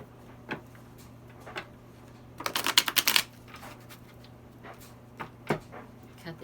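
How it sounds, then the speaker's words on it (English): A quick riffle of tarot cards snapping together in a short burst midway, with scattered soft taps before and after against a quiet hum. "Let's do one more good shuffle."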